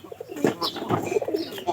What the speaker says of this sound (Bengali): গোতান গোতান পায়রা যেটি আছে এরা কোনোটা কম ডাকে না